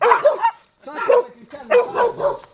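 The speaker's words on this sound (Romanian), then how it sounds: "doi câini care sunt agresivi și deși mai micuți" Two small but aggressive guard dogs at a house bark repeatedly in close, loud bursts, yapping and whimpering in an uneven rhythm with short gaps between volleys.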